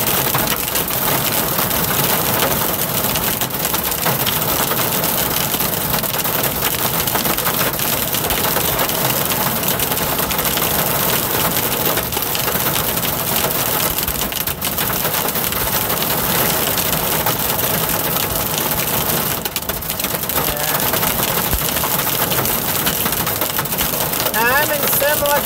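Dense hail clatters continuously on a moving car in Simla, Colorado during road repaving, a steady, loud rattling wash with engine rumble underneath and a voice speaking over it.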